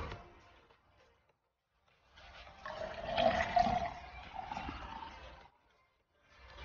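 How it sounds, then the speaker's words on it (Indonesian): Water pours into an overflow glass for an Archimedes buoyancy experiment, a steady splashing stream of moderate loudness lasting a few seconds between quiet gaps. "kita tuangkan air pada gelas berpancur"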